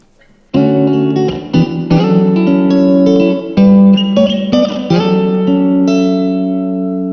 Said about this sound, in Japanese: そしてよくあるのがこのスプリングリバーブですね